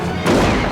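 A short burst of gunfire from the 1993 horror film Leprechaun, a loud broadband blast that hits abruptly after a moment of quieter sound and rings on briefly.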